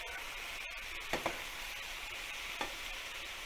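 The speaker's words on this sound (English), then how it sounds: "you stir from the outside to the inside, just like this with your spoon" A spoon stirs potatoes in a round pan for Potatoes O'Brien over a soft, steady background hiss, with a few faint scrapes and light knocks scattered through.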